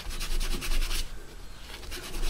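A bone guitar nut is rubbed back and forth on wet-and-dry sandpaper, giving quick rhythmic scraping strokes, loud and close, in two bursts with a short pause between.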